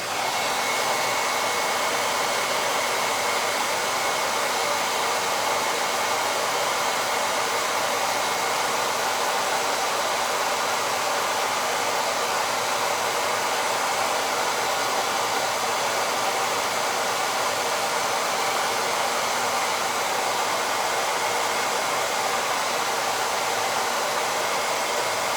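A hair dryer blows steadily on wet neon-coloured paint, giving a constant broadband whoosh that stays loud and even for the whole stretch, with no voices.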